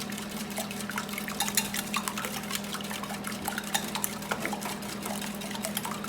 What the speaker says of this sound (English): Now just hit it with a whisk.